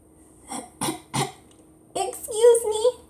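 A voice reading a children's story aloud imitates a cricket's cough, giving three short, close coughs and then speaking.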